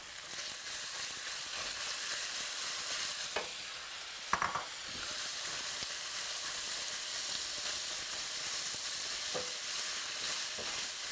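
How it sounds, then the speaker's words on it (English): Garlic pieces and thin strips of boneless chicken breast fry in a hot pan, giving a loud, continuous sizzle with a few brief stirring clanks. "So garlic pieces are sizzling, and I'm going to now add chicken to the pan."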